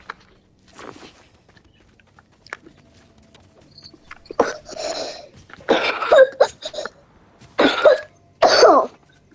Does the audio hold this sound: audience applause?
no